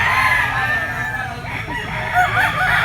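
A full gamecock stag of the lemon sweater bloodline crows at a weekly animal market, with other roosters crowing and clucking around it, under a constant crowd murmur and indistinct voices.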